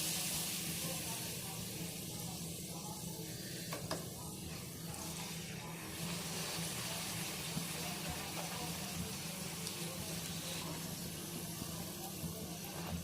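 Puris frying in hot oil for a halwa puri meal, giving a steady, close hiss and sizzle that runs the whole time with little change.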